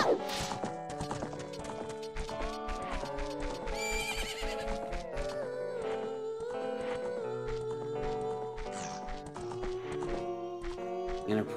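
Horse neighs and clip-clopping hooves from the video game The Legend of Zelda: Ocarina of Time, set over continuous game music, with a few whinnies standing out near the middle.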